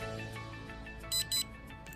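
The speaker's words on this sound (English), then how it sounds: "once I hear the beep beep, I know it's officially off." Two quick electronic beeps in succession, sharp and close, over a faint steady background hum, from a dog bark collar switching off.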